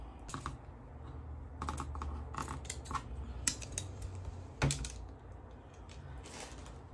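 Scissors snip through material for a Dollar Tree witch's hat wreath, a series of quick close cutting clicks and rustles at a quiet level, with no speech.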